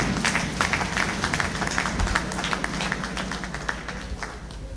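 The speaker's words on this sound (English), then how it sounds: "Another round of applause" Audience applause at a graduation lecture for an executive intelligence management course, with a large crowd clapping steadily and densely through the whole stretch at fairly close range, no voices over it.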